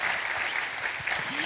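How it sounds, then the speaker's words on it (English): Audience applause for Maria at a design talk, a brief burst of many people clapping together, dense and even throughout. "A round of applause for Maria."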